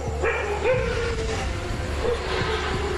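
Village dogs in Gir, gathered and alert to nearby danger, give a few short, sharp barks at moderate distance over a low outdoor rumble.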